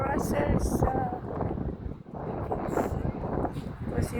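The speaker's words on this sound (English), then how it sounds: "it's a lot of wind" Strong wind buffeting an outdoor microphone with heavy low rumbling gusts, while a person talks through it.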